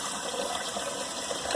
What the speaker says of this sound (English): put cold water on your face